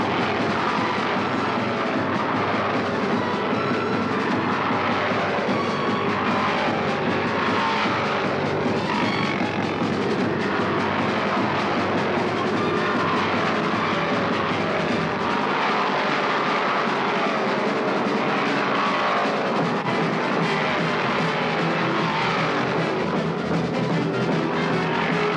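Stock cars roar through the turns at Martinsville Speedway in the 1972 Virginia 500, a dense, constant engine drone at loud level from a pack running side by side, with no break throughout.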